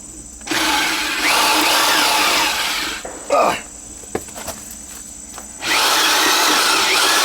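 A power drill fitted with a large bit bores through house shingles while an outside shower is installed, giving two long, loud grinding runs separated by a brief burst and a quiet gap.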